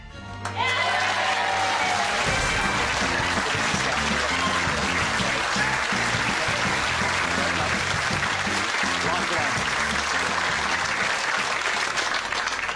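Studio audience applause on the game show Deal or No Deal, loud and sustained for several seconds with dense clapping and some crowd noise, beginning after a brief lead-in and continuing steadily to the end.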